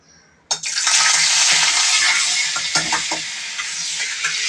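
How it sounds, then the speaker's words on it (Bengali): Butter dropped into a hot kadai bursts into a loud, steady sizzle and crackle that starts suddenly and continues close up, with no talking. "এখানে আমি কড়াইয়ের মধ্যে খানিকটা বাটার দিয়ে দিচ্ছি।"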